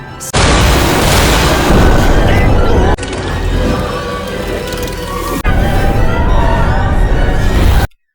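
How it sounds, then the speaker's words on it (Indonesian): A loud, sustained roaring blast of an anime magic explosion that rumbles on for several seconds, swelling in distinct surges before cutting off abruptly. "ia menerjangkan sihir ledakan ke arah katak"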